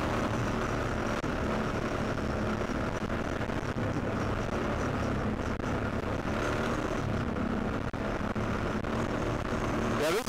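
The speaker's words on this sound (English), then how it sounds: "Gage is riding Daddy's four-wheeler" Four-wheeler ATV engine droning steadily on a trail ride, loud and continuous with wind buffeting the microphone throughout.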